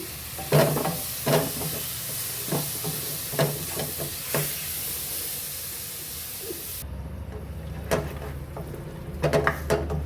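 Tomatoes frying in a pan for chole, with a spatula scraping in irregular strokes over a steady sizzling hiss; the scrapes pause midway, then return in quicker bursts, close and without speech.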